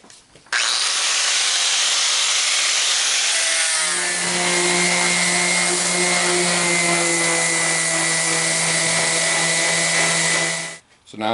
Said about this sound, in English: Then I'll finish up with the orbital sander.